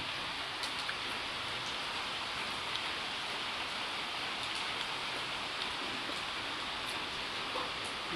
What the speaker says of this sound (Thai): บรรยากาศฝนตกริม